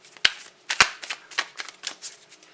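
A deck of tarot cards is shuffled up close, with two sharp snaps followed by a run of quick riffling bursts.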